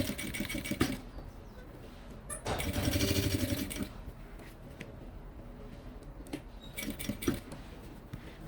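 A sewing machine stitches elastic and bias binding on a pencil case. Close, loud bursts of rapid mechanical stitching start and stop, with one longer run in the middle and shorter clattering runs toward the end. There is no talking.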